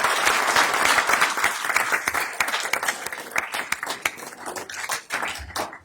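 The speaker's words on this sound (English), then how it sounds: "Give yourselves a big round of applause" Applause from the audience at a county board of commissioners meeting, dense sustained clapping that thins into scattered claps toward the end, with some faint voices.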